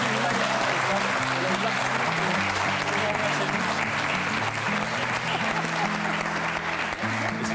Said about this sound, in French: je pense que ça peut s'applaudir